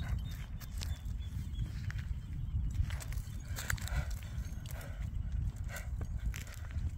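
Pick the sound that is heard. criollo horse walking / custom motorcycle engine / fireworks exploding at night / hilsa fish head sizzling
criollo horse walking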